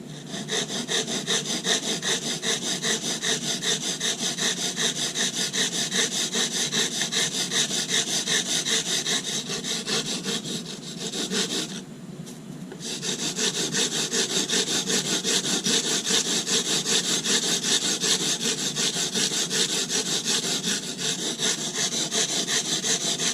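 Sandpaper rubs steadily along the edge of a composite fin, giving a continuous, loud, close abrasive scratching that pauses briefly about halfway through before resuming.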